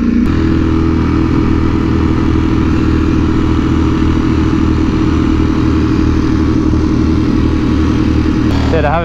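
Ducati Panigale V4R motorcycle being ridden on a road alongside another V4R, its engine droning loud and steady throughout with a constant harmonic roar and slight pitch shifts, no voices.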